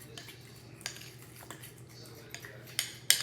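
Apple tart icing of powdered sugar and butter being mixed in a bowl, soft scraping with light clinks of a utensil against the dish, quiet and close with a few sharper taps toward the end.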